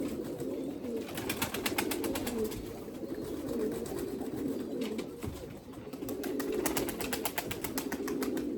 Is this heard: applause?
no